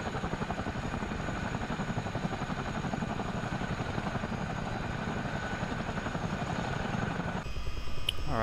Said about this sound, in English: Now we'll take our engine number two up to flight.